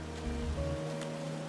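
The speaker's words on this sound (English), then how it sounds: "It's a really nice waterfall down here." A waterfall in the Firewatch video game gives a steady, continuous rush of falling water, alone and fairly quiet, with a low tonal hum running under it.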